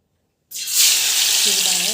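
Ripe jackfruit pieces dipped in batter hit hot oil and burst into a loud, steady sizzle after a moment of silence, continuing as an even frying hiss.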